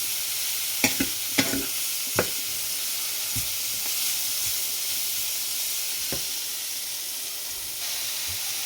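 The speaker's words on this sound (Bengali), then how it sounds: "এর মধ্যে আমি ব্রকলি আর ক্যাপসিকাম দিয়ে দিয়েছি। এটাও একটু ভেজে নেবো ভালো করে।" Onion, broccoli and capsicum frying in a pan, a continuous hiss and sizzle with a few sharp utensil scrapes and taps early on, close and unaccompanied by speech.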